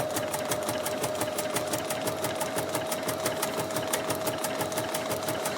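A sewing machine stitches raw edge applique in a steady, rapid mechanical run with regular needle clicks, close and continuous, without speech.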